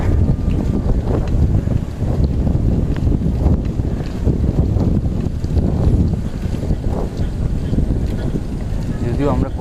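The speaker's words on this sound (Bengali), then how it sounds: "উপকূলীয় অঞ্চল এদিকে বাতাসের ঝাপটা অনেক বেশি থাকে" Strong gusting wind in a coastal area batters the microphone with a loud, constant low roar and buffeting that never lets up.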